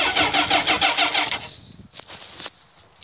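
A car engine cranking and catching after its timing chains were adjusted to cure a rattle, with rapid rhythmic starter churning for over a second, then the engine firing and settling to a quieter idle.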